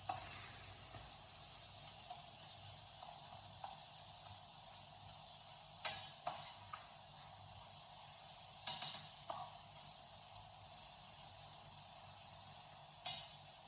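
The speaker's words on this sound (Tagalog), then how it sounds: "Tapos ating halu-haluin para ating durugin ang ating kamatis." Steady soft sizzle of chicken and tomatoes frying in butter in a pan, with a few scraping knocks as a utensil stirs and crushes the tomatoes, close and fairly quiet, no talking.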